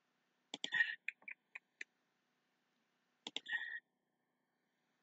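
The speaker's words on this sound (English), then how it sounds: "you can hear this and my clicking and stuff and my keyboard because I don't have my headphones in" Mouse clicks and keyboard keystrokes during a Minecraft game, sparse and fairly faint, a cluster of clicks and taps, a pause, then another short burst in a quiet room.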